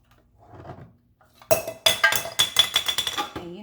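Vegan burger mixture stirred in a pot, a spoon clanking and scraping against the metal in a rapid, loud rhythmic series after a soft muffled start.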